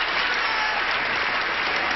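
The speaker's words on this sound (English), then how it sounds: "we give a brief, polite round, but heartfelt round of applause to the two new kids on the block" A studio audience at a television game show gives a brief, polite round of applause, a dense, steady patter of many hands clapping throughout with no one speaking over it.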